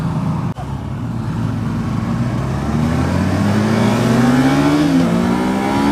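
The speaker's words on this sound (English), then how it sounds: "This FJ1300 sounds boss with this GYTR exhaust." A Yamaha FJ1300 motorcycle fitted with a GYTR aftermarket exhaust roars loudly under hard acceleration. Engine pitch climbs steadily toward redline in one continuous, close pull.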